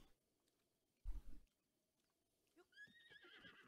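Horses neighing in a video game, a low snort or thump followed by a rising whinny, fairly faint, with no talk over it.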